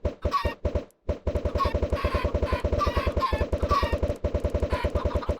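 Chickens in a video game village make rapid rhythmic clucking pulses, loud and continuous with a brief pause near the start, and no talking.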